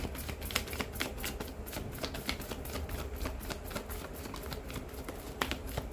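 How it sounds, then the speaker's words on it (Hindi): Tarot cards are shuffled in quick, crisp riffles and flicks that form a rapid, steady patter, close and fairly quiet, with no voices. "एक शफल और लूंगी प्रभु जी"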